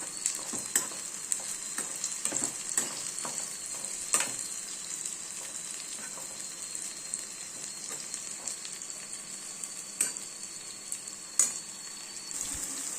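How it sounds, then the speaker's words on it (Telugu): Brinjal pieces frying in oil, a continuous bright sizzle with scattered ticking pops and occasional spoon clicks against the pan, steady and close, without voices. "ఇలాగా ఎర్రగా వేయించాలి ఇంకా కొంచెం ఎర్రగా చూసారా దేనికది చక్కగా ఫ్రై అయిపోద్ది"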